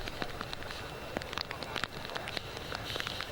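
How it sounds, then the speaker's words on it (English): Rain pattering steadily on a surface outdoors, a dense crackling hiss of drops with small sharper taps scattered throughout, moderately loud and with no voices. "You can hear the rain on this."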